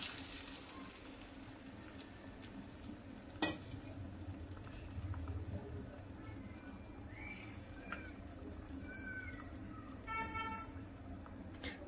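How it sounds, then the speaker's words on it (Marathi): Beaten eggs dropped into a kadai of roasted spices for egg bhurji, giving a faint, steady sizzle with a sharp stirring clack and a few light tonal beeps in the background. "यामध्ये आता आपण फोडून घेतलेले अंडे टाकून घेऊया"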